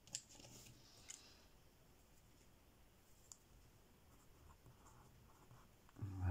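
Pencil scratching on card while writing a number by hand, faint and steady with a few small clicks, alone without talk, ending in a louder bump.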